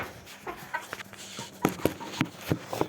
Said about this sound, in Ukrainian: Це курка